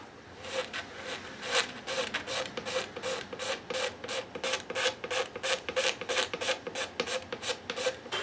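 A flexible razor blade scrapes the white dots of a compound radius guitar fingerboard clean in quick, even back-and-forth strokes, each a short raspy scratch repeating steadily up close.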